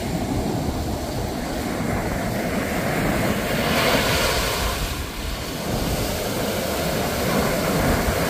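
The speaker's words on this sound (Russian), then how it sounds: "Вот такие волны." Rough sea waves break steadily on the shore at Beregovoe, with whitecap crests crashing in a continuous loud wash, swelling midway, mixed with wind buffeting the microphone.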